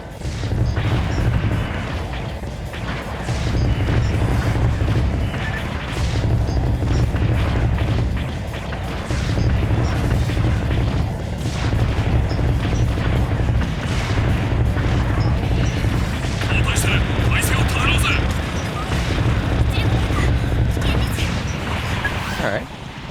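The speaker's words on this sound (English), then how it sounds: "Good explosion." Explosions in the space shooter Assault Suit Leynos, a run of loud booming blasts and crashes repeating every few seconds over pulsing game music and sound effects, with a voice talking over them.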